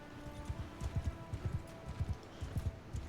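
Horses galloping in the medieval battle game Mount & Blade II: Bannerlord, a quick run of close hoofbeats in an uneven, overlapping rhythm, with the rumble of battle behind.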